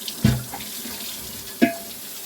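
A scrubbed cooking pot is rinsed under a running tap in a kitchen sink, giving close, steady water flow with two sharper splashes as the pot moves through the stream.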